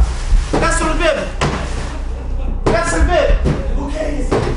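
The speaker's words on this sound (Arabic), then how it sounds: "نفتح كسر الباب" A door is forced and broken open during a staged earthquake scenario, giving several heavy slamming thuds and bangs amid excited voices talking over them.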